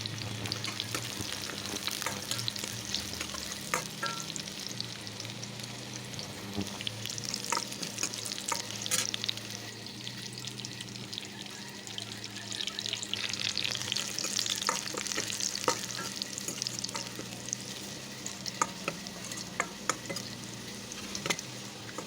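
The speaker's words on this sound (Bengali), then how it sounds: "পেঁয়াজটা একটু লাল লাল করে ভাজা হয়ে গেলে এখানে আমি রসুন অ্যাড করে দেব" Onion and garlic fry in a pan until browned, a continuous close sizzle with frequent stirring clicks and scrapes throughout.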